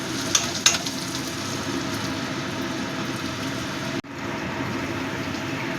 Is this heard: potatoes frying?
yes